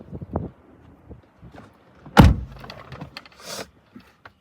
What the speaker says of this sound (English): Let me lock that door.